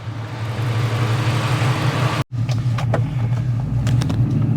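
A 1998 Cobra's engine runs at a steady idle close by, a loud, even low rumble that drops out for a split second midway before resuming unchanged.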